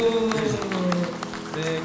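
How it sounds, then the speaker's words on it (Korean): Congregation applause during a Sunday church service, scattered clapping from many hands mixed with talk and a sustained musical tone underneath. "우리 큰 박수로 격려해 주시길 바랍니다."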